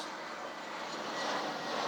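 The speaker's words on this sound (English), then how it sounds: "Sorry about the aeroplane noise again." Aeroplane passing overhead on approach near an airport above a garden allotment, a steady, faint broadband engine roar that swells slightly as it nears, with no voices.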